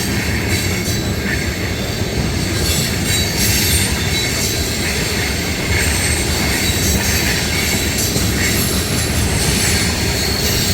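A CSX ethanol freight train with two YN2-painted locomotives passes at speed, a steady, loud, close roar of rolling tank cars and wheel noise filling the whole stretch without pause.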